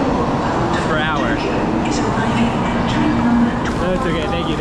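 A Shinkansen high-speed train on the Tokyo to Kyoto and Osaka line, traveling around 285 km/h, makes a loud, steady rushing rumble throughout, with faint voices underneath.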